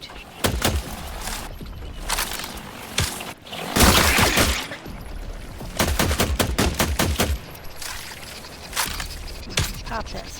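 Repeated gunfire bursts in The Last Caretaker, a survival game, sharp loud shots in clusters with brief rapid volleys, spread across the clip alongside other impact noises.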